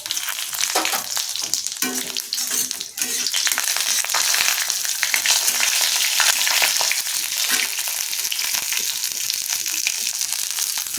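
Bay leaf, whole garam masala and dried chillies fry in hot oil in a pan for a home-style mung dal, giving a loud, steady crackling sizzle that runs throughout with brief stirring scrapes.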